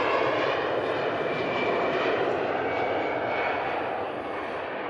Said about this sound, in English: Iberia Express heading out to Madrid. Passing in front of your shop.